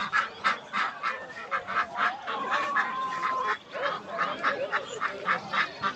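Ducks at a busy poultry market call out loudly in a steady run of repeated honking quacks, several birds overlapping close by with no pause across the stretch.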